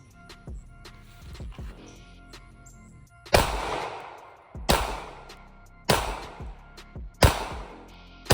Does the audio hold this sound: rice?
no